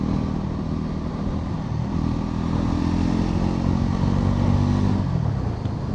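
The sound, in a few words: Bajaj Pulsar NS 400Z motorcycle being ridden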